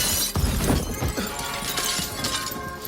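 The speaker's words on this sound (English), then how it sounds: "The window glass shattered under the pressure." A hotel room window's glass shatters under pressure, a loud bright crash followed by a continuous spray of tinkling, breaking fragments.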